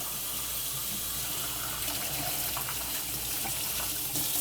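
Steady stream of tap water runs over a dishwasher filter being rinsed in a sink, a continuous close splashing gush with small shifts as the filter moves under the flow.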